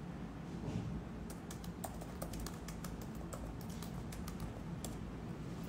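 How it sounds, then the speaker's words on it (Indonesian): Someone types on a computer keyboard in quick, irregular bursts of light key clicks over a steady background hiss. Nobody speaks. "Bentar ya guys, mumpung lagi keinget ngetik buat tim."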